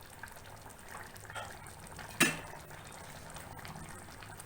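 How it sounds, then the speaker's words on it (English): Mutton liver gravy boils in a pot with water added, giving a steady low bubbling and simmer hiss, faint and continuous, with one brief clink near the middle. "Mix it well and allow it to boil for about 3 to 4 minutes."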